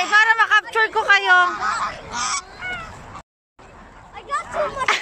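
Geese honk repeatedly at Goose Beach beside Strathclyde Park, a run of close, loud calls that pauses briefly before more honking returns, with outdoor noise in the background.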